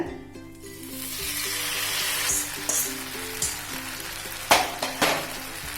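Maggi noodles sizzle steadily in a hot oiled pan, loud and close, with occasional clinks of a utensil against the pan near the end.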